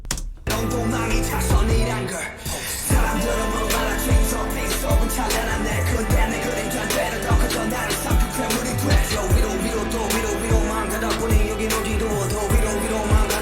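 Vocals in BTS's 'Interlude: Shadow' carry a spacious hall reverb inside a dense, loud, continuous mix of beats and bass.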